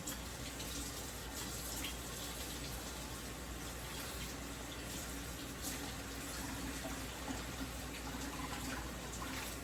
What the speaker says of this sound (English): I'm going to run this under the water.